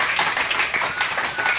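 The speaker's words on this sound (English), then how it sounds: "Give yourselves a round of applause." A comedy club audience at a live stand-up show gives a brief burst of dense, steady clapping that holds at an even level for under two seconds.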